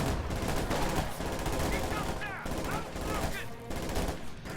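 Mortar and gunfire in a WWII real-time strategy match, with dense, continuous rattling bursts and heavy blasts hitting infantry in cover, loud and unbroken throughout, with faint whistling shells overhead.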